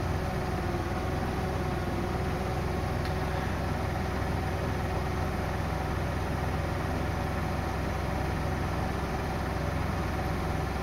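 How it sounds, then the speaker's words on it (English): A 1986 Ford F-250 pickup engine idles while warming up after a carburetor update, a steady, unbroken low rumble with a constant hiss that holds the same level throughout, close to the listener, with no voices. "it's going to take quite a little while to warm this engine up"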